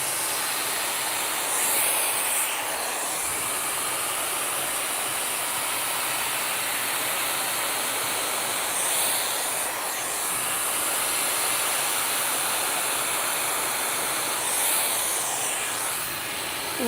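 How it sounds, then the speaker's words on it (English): A hair dryer blows continuously as hair is blow-dried, a steady loud whooshing roar with a faint periodic swell as the dryer moves, with no talking over it. "I might have my entire head of hair blown dry in the next couple minutes"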